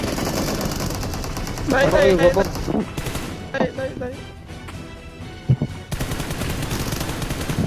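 Distant gunfire in a shooting video game comes as scattered sharp cracks and short bursts, with players talking over much of it.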